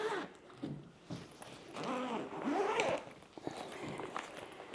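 Zippers on a carry-on suitcase being pulled open in several short and longer strokes, a close rasping run with brief pauses, moderately quiet and without talk.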